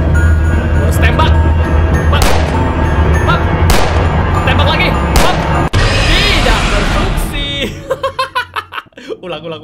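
Rapid gunfire from a pistol in the horror video game Mr Hopps Playhouse: sharp repeated shots over loud, dense game music and a talking voice, ending in a quick rhythmic burst.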